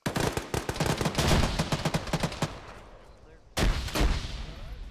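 Gunfire crackles in a military video game, a dense rapid burst of shots fading out, then a sudden loud blast from a frag grenade followed by a decaying rumble.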